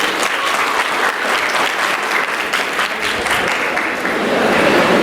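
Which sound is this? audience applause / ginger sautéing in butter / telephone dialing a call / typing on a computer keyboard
audience applause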